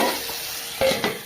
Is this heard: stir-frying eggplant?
yes